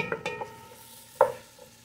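A spoon stirs mung beans with red onions in a pan, giving a few quick scraping clinks close up, then a sharper knock of the utensil against the pan over a faint sizzle.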